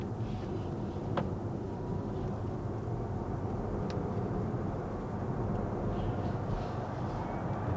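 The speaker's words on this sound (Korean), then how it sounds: "모터 돌아가는 소리가 엄청 세게 들리네" A Kia EV6 GT electric motor whirs steadily while driving with maximum regenerative braking in sport mode, a constant low drone with road and cabin noise and no talking.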